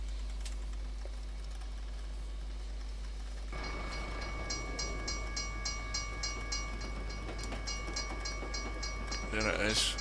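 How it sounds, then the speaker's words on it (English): A train rumbles and clatters past a level crossing at a distance in the video game Euro Truck Simulator 2, with a repeating bell-like ding and a low constant hum underneath. "presumably there's another train coming."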